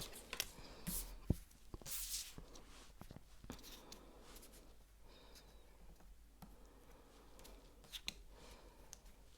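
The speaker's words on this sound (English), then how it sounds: "I'm going to shuffle and see what the cards have to say about what is your biggest weakness." Tarot cards being shuffled by hand at close range, giving soft papery riffles and slaps in quick irregular bursts, with occasional sharper taps against a quiet room.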